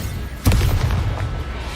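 A Bombarda spell blast from the Hogwarts Legacy video game: a single sharp, loud boom that rolls into a sustained low rumble and crackling debris.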